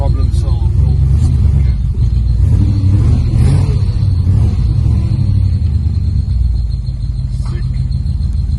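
A Nissan Skyline's engine running up close, a loud low rumbling idle that holds steady throughout with faint clicks and rattles over it.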